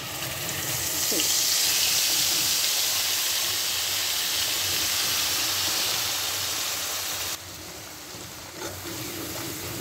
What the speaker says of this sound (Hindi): अब इसको भून लीजिए बहुत ही अच्छे तरीके से